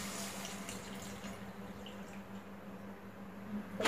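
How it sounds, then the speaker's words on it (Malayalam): Half a cup of water is poured into a pot of parippu muringakka (lentil and drumstick) curry on a gas stove, a soft, quiet splash and trickle over a low steady hum. "ഇതിലേക്ക് നമുക്ക് അരക്കപ്പ് വെള്ളം ഒഴിച്ചു"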